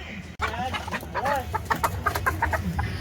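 A hen clucks close by in quick, uneven bursts after a sharp bump, her calls repeating rapidly with a faint low hum in the background.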